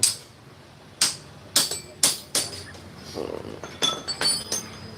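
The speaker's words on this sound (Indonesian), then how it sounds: "pahat karatan baut." A chisel is hammered against a rusty bolt on a Yamaha RX-King motorcycle, giving a series of sharp metallic strikes, several in quick succession, with brief quiet gaps between them.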